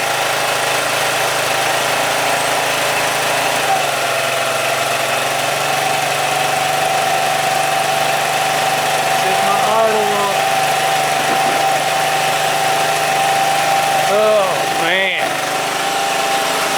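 Scooter engine with a carburetor float problem running close and loud, a steady idle hum with brief revs as gas is given near the middle and end, and a voice talking over it.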